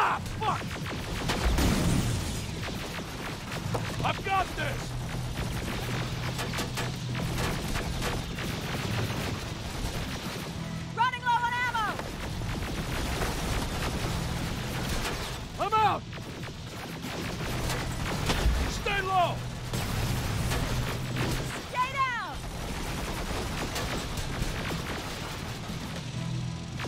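Gunfire in Terminator Resistance, scattered bursts and single shots mixed with laser-like zaps and impacts amid a dense battle din, with shouting voices over it.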